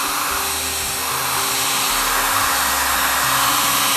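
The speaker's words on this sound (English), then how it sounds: "Keep that heat gun on there," A heat gun blows steadily on clear bra film being peeled off a 12-year-old car, a loud continuous airy whoosh with a constant motor hum and no pauses, close to the mic.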